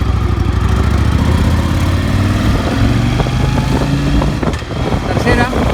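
A Yamaha XV 750 motorcycle, repaired after one cylinder was misfiring, accelerates in gear with a loud steady engine drone and rising pitch through the gears, heard up close from the rider's position.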